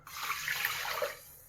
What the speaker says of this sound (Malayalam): വെള്ളം ഒഴിച്ച് കൊടുക്കാം.